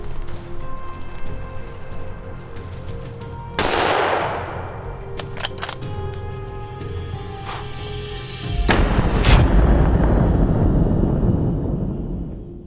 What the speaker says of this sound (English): I raised my gun, aimed carefully, and pulled the trigger.